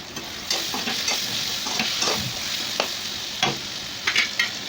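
Pasta being stirred with pasta masala and salt in a hot pan, a steady sizzle of frying under repeated scraping strokes of a spoon against the pan, close and fairly loud, with no talking.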